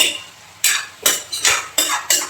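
Metal spoon stirring meat curry in a pot after salt is added, giving a string of about six separate scraping clinks at uneven intervals, close and fairly clear with no talk.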